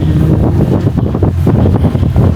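Strong wind at a Boracay beachfront blowing across the microphone in loud, steady buffeting gusts, no voices.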